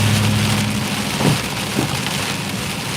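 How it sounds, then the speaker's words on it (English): Hail and heavy rain drum on a car during a storm, a dense continuous patter close by with a low vehicle rumble underneath, steady throughout and no talk. "There must have been a little hail up here."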